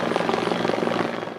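A helicopter fitted with radiation detection equipment flies low and slow over a city, its loud, close rotor chop and engine roar filling the air continuously.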